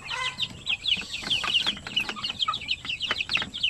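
A flock of Basilan native chickens clucks continuously at close range, a busy chatter of short overlapping calls from several birds in a farm setting.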